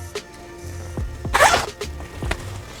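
A bag's zipper is run open and shut in several quick scraping pulls, close and fairly quiet, with one longer, brighter rasp in the middle.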